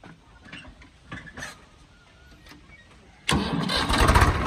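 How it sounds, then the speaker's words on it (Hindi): A tractor's diesel engine cranks and catches after a few quiet knocks and shuffles, then roars loudly into a steady, close rumble that keeps building toward the end. "तो एक बार स्टार्ट करिए जी ट्रैक्टर को आप"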